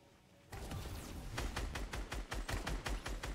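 Rapid gunfire in a Fortnite match breaks out suddenly and continues as a stream of close, punchy shots with a fast rhythmic pulse, loud and without talk.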